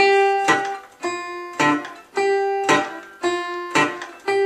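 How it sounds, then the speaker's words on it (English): Acoustic blues fingerpicking on guitar, treble strings ringing a melody over a steady palm-muted percussive thumb, plucked notes arriving in an even repeating rhythm, close and clear with no talking. "I got that muted percussive effect happening because of my constant thumb."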